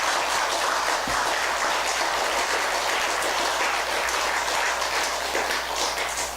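An audience at a Buddhist lecture on the Avatamsaka Sutra in a Buddhist hall claps steadily, dense sustained applause filling the room throughout, with no speech over it.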